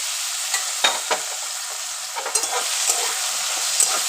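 Boiled taro pieces fry in a hot pan with potatoes and spices, producing a bright continuous sizzle broken by several quick stirring scrapes, without speech.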